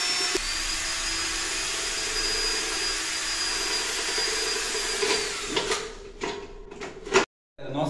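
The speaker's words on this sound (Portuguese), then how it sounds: "Agora eu vou furar aqui" A drill boring a hole into a PET plastic bottle gives a steady, loud whining hum that runs for several seconds, then breaks into rattling, scraping handling noises before it stops abruptly.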